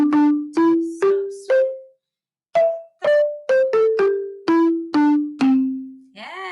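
Wooden marimba bars struck one at a time in a simple melody: about a dozen clear, ringing notes that decay quickly, heard close with a short pause partway through.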